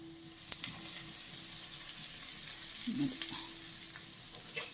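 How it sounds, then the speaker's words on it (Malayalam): Potato mezhukupuratti being stirred in a pan: soft scraping and a low sizzle, quiet and close, with a couple of brief spoon taps and no talking. "ഇപ്പോൾ ഒന്ന് ഇളക്കി മിക്സ് ചെയ്യാം"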